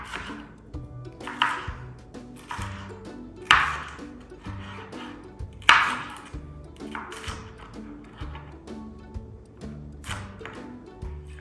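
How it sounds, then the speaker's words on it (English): A knife chops bell pepper strips into squares on a cutting board in a home kitchen, with a series of crisp, close taps at an irregular pace, a few sharper and louder, over faint background music. "And then you take those strips and you cut them into squares."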